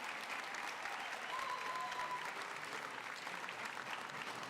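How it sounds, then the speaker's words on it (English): A large graduation audience applauds steadily at a high school campus ceremony, a dense, even roar of clapping that holds the whole time with no voices standing out. "You can give a round of applause for that."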